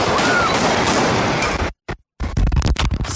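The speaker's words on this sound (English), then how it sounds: "The peaceful march in Austin quickly shattered by gunfire." Gunfire breaks out at a peaceful protest march in Austin: loud, dense blasts and crashes in the open, a sudden silence, then more sharp irregular bangs, with no speech.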